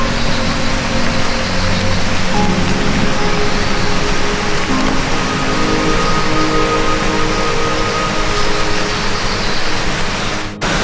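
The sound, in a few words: jungle waterfall in Kalimantan forest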